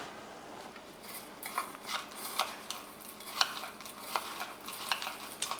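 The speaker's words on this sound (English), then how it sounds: "I'm just going to give this panko topping a stir" Panko breadcrumb topping with oil and cheese for mac and cheese is stirred in a bowl, giving quiet, irregular scraping and crunchy rustles in short bursts.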